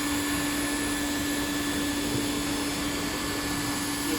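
A hot air banner welding machine runs with a steady, loud blowing whoosh and a constant tonal hum, with no pauses and no voices.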